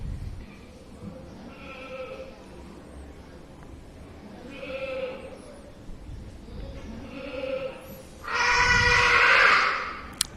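Goats and sheep at a county fair livestock show, with several short, nasal bleats spaced through steady arena hubbub and a louder, harsher burst of calling near the end.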